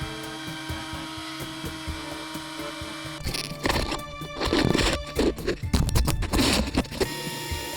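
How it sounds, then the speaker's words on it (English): A power sander grinds bottom paint off a cracked fiberglass boat hull, starting after a few seconds of steady machine hum with loud, rough, uneven abrasive bursts close by. "I'm taking the sander here to get this bottom paint off and get to the raw material"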